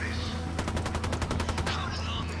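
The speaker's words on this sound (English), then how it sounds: "Opening fire on these fuckers." A rapid automatic burst of gunfire from Ghost Recon Wildlands, about a dozen evenly spaced cracks in just over a second, sitting over a steady low game drone and ambient hum.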